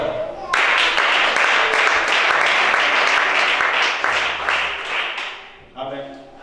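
Congregation in a French-speaking church service applauds, a loud dense round of clapping that starts abruptly, holds steady for several seconds and then dies away.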